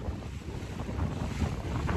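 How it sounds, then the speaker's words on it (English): Steady wind buffets a microphone on Lake Garda during a Sunfish sailing championship race, a continuous rough low rumble with faint water and boat motion beneath, no voices. "It's windy and it's blowing out of the north"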